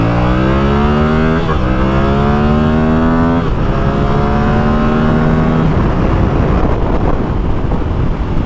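A Yamaha R7 motorcycle pulls hard through several gears on its first ride, engine note climbing steadily then dropping at each shift, loud and close with heavy wind rush over the microphone.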